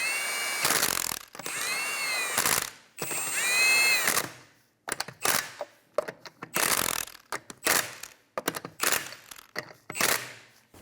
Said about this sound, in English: Tighten down the wheel in a star pattern.